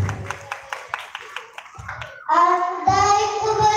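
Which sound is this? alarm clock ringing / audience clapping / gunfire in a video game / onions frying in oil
audience clapping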